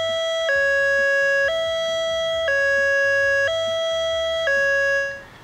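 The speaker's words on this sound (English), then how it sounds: "The high-low siren is a distinctive two-tone siren" A loud two-tone high-low warning siren from an alert and warning system alternates between a high and a low pitch about once per second, repeating steadily before cutting off.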